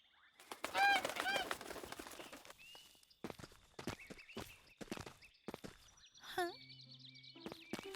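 Cartoon ducks in a rice paddy honk and quack in bursts, some close and loud, mixed with scattered thumps and movement, with voices talking in between.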